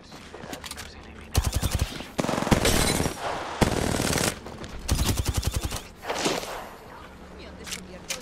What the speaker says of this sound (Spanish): Me han descubierto y estoy recibiendo disparos.